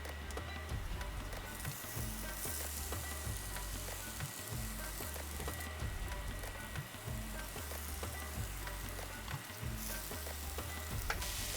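Golden squash added to a seasoned mixture in a pan, sizzling steadily with soft stirring scrapes, quiet and close, with no talk.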